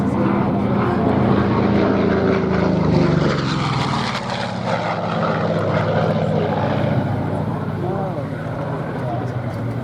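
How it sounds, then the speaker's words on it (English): Vought Corsair warbird making a low pass at the Duxford VE Day anniversary air show, a loud, rough propeller engine drone swelling and sweeping past, with a commentator's voice talking over it. "this will be the final pass from the Corsair"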